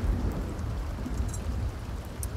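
Soft, steady rain hisses with a low wind rumble in a Sims 2 game, faint and continuous with occasional light drips and no talking.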